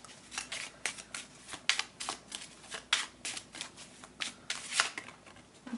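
Tarot cards are shuffled by hand in a quiet room, making a quick series of close, crisp riffling and flapping bursts with short gaps between them.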